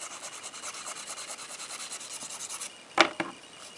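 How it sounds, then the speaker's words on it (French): A nail file rubs back and forth across the surface of a gel nail in quick, even rasping strokes, close and soft, ending with a couple of sharp knocks, no talking. "je relime toute la surface de l'ongle"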